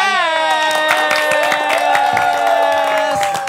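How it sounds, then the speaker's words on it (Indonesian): A studio audience claps and cheers loudly to welcome a guest at a live broadcast event, with whoops and shouts over dense applause throughout, while a voice speaks over it. "beri tepuk tangan yang paling meriah untuk Jovia Lopez"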